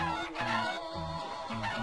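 A chicken clucking in the Crash Twinsanity video game, a run of repeated short, throaty clucks in a steady rhythm over a constant background, close and clear with no talk.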